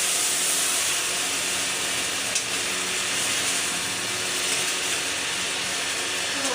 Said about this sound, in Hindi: बाकी अब मैं इसमें डाल रही हूँ दूध।